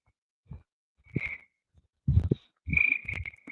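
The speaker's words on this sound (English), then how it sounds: "I can't hear your thing over the tree frogs" Tree frogs croaking outdoors on an evening walk, a series of short rough croaks and a couple of longer raspy trills, close and loud against quiet surroundings.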